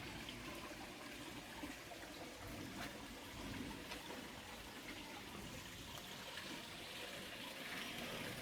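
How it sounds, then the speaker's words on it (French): Spring water trickles along a small natural stream in an outdoor valley, a steady broadband wash of running water that stays even and close throughout, with no talking. "la source s'écoule ici, le long de ce petit ruisseau naturel"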